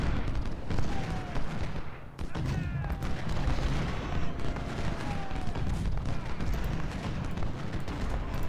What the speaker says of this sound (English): I can use my 3-inch ordnance to fire on his troops and not doing counter battery fire